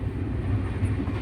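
A night train rolling along, a low steady rumble of the carriages in a brief snatch, fairly quiet and without any talk over it.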